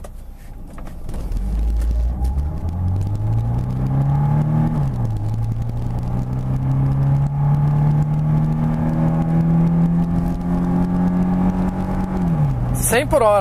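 A 1991 Mercedes 190E 2.3 8V sedan accelerates hard from a standstill to 100 km/h in Sport mode, its engine note climbing through the gears with a brief dip at each shift, heard from inside the cabin with a few spoken words.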